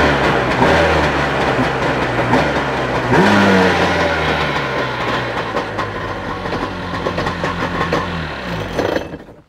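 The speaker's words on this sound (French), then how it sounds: "je vous fais une petite mise en route quand même que vous l'entendez tourner" A freshly rebuilt Cupra 400+ boat engine starts up and runs loudly and close, its steady drone swelling in a rev partway through before cutting off at the end, with no talk.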